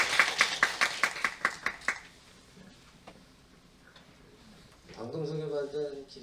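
Clapping at a school project briefing meeting sounds as a short, evenly spaced series of about ten crisp claps, then fades into quiet, with someone beginning to talk near the end.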